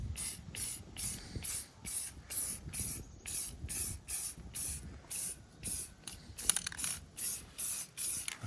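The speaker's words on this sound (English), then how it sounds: "I'm gonna go ahead and just spray some water on the wheel" A trigger spray bottle misting water onto a freshly painted car wheel being given a rust patina finish, a long run of regular, sharp hissing bursts about twice per second, close and crisp, with a soft clink partway through.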